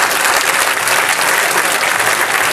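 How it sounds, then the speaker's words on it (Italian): Loud, sustained applause from an outdoor event audience, a thick continuous roar of many hands clapping close by, unbroken from start to finish with no speech on top. "Allora io voglio il vostro applauso veramente caloroso per loro."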